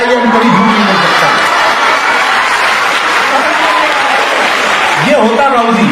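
An audience claps loudly and steadily at a Hindi comedy poetry gathering, with a few chuckles and cheers mixed into the continuous applause.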